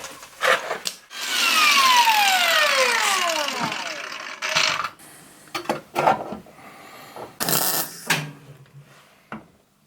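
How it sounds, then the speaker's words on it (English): A Citroen BX body panel is being worked on: hole punching for spot welds. A loud power-tool whir winds down in pitch, then a series of sharp, close metallic clunks and knocks follows at irregular intervals, with no one talking. "I'm gonna punch some holes for the spot welds down there."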